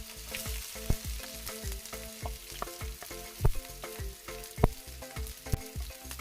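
Cumin, chopped onions and green chillies sizzle in hot oil in a pan, a close, steady crackle punctuated by sharp clinks and scrapes of stirring.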